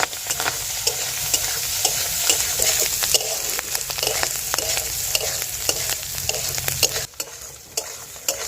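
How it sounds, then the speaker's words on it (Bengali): Gugli snails frying in a pan with salt and turmeric, a steady close sizzle broken by frequent sharp scrapes and clacks of stirring, dipping briefly near the end before picking up again. "এবারে সামান্য লবণ আর অল্প হলুদ গুঁড়ো দিয়ে ভেজে নেবো ভালো করে"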